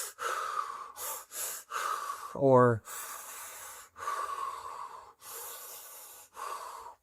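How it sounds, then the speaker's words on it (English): Several deep breaths drawn in and pushed out in a steady rhythm of forceful energy-clearing breathwork, close and loud, with one brief rising gasp-like inhale partway through and a single spoken word. "like an energy clearing breathing pattern"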